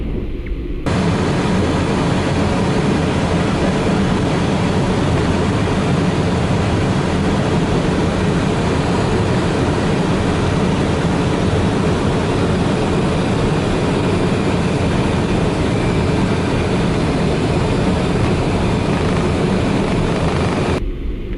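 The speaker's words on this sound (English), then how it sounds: "this is a really interesting or fun takeoff because we get to turn at a very low altitude of just 500 feet" A Lufthansa Citation CJ1 business jet takes off, heard from inside the cockpit as a loud, unbroken engine roar that holds steady throughout, with no talk over it.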